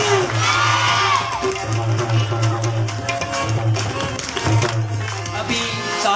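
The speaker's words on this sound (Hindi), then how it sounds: "एक बार भरपूर तालियां बजाएं" Crowd at a festive Eid mela gathering cheering and calling out, a loud continuous mass of voices with a steady low hum running underneath throughout.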